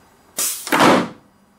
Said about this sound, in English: And the doors closing.